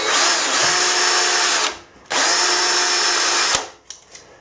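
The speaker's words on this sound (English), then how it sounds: "I'm just going to start the drill" A power drill bores a starting hole into metal on a centre-punch mark, two sustained loud whining runs separated by a brief pause, ending with a few small clicks.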